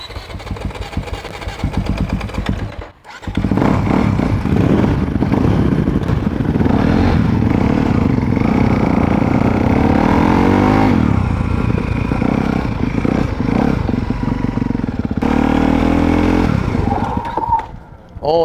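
A Honda dirt bike engine idles and revs hard in a yard, loud and close with clattering rasp, surging up and down before cutting out abruptly at the end.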